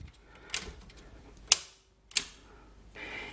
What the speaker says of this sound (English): What I'm gonna do is cut all the breakers off.